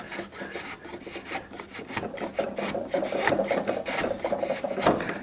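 A chisel pares wood for a bridle joint, making a run of close, rasping scrapes and slicing strokes in an uneven rhythm, with no voices.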